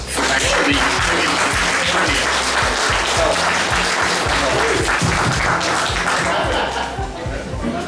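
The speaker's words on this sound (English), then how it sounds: "I think we should all give Dave a big round of applause" An audience at an Amiga event applauds for Dave: sustained, dense clapping from a crowd at fairly close range, with some chuckling and murmured voices mixed in, fading slightly near the end.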